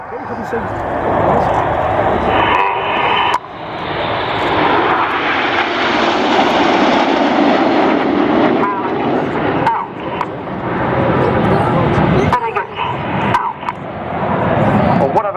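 An Avro Lancaster bomber flies past at an RAF air display, its piston engines droning loud and rising then easing across the pass, with wind buffeting the microphone and a public-address voice talking over it.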